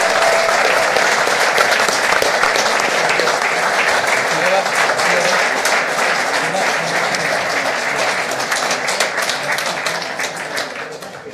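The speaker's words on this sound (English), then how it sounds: "Give them a big round of applause, Lin Dan and Lee Chung Wei." An audience applauds at a badminton welcome party event, sustained dense clapping from a crowd that holds steady and then slowly fades toward the end.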